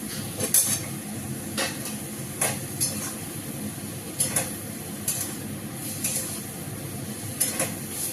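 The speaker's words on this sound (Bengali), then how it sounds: "যেহেতু আমার মশলা ভালো করে কষানো হয়ে গেছে, আমি এবারে কোপ্তাগুলোকে ছেড়ে দেবো।" Koftas go into a pan of well-fried spice paste, giving a steady soft sizzle broken by several sharp clinks and scrapes of utensil against pan at irregular intervals, close by and with no talking.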